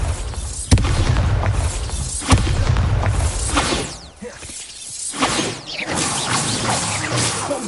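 Bombarda spell blasts in Hogwarts Legacy, loud booming explosions with sharp cracks, crashing debris and whooshes in a dense, continuous game-combat mix.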